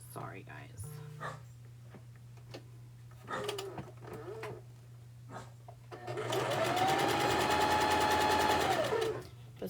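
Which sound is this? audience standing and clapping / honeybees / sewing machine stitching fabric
sewing machine stitching fabric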